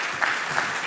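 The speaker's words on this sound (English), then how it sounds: "A round of applause." Audience clapping after a presentation at an event, a short burst of steady applause with a couple of sharper claps, heard briefly and moderately loud.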